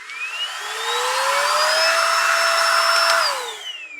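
A Heimerdinger cordless dust blower spins up with a rising whine, holds a steady loud rushing roar for a few seconds close by, then winds down as it is switched off.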